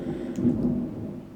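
Deep, rolling thunder rumbles through a bad storm, a low sustained roar swelling and fading over soft background rain, with no voices.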